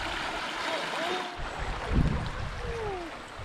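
The Archer River on Cape York flows with a steady, soft rushing hiss, with faint chirps overhead and a brief closer splash near the middle.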